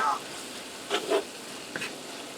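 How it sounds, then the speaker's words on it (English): Spices and a tablespoon of hot sauce frying in a sizzling skillet, a soft steady sizzle with a few brief stirring scrapes, close and fairly quiet. "Let me give that a stir."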